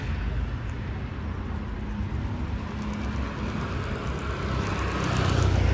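A scooter ridden by a learner makes a steady, muffled rumble mixed with wind and road noise. The sound is continuous throughout and swells slightly near the end.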